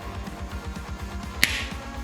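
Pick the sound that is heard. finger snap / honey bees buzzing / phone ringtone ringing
finger snap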